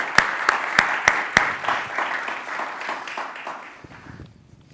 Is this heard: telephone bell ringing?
no